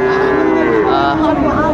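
A Friesian or crossbred heifer lets out one long, loud, close moo at a busy livestock market.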